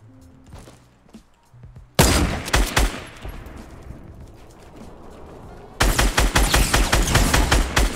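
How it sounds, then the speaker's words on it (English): Shotgun fire in the video game Fortnite, loud close blasts starting with a single sharp shot followed by rapid bursts of repeated gunfire, with no talking. "Fucking shotgun on me from there?"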